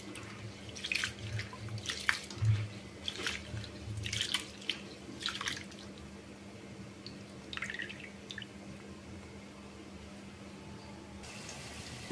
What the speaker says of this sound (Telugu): ఒక 2 గ్లాసుల బియ్యం కడిగి పెట్టుకోవాలి ముందు.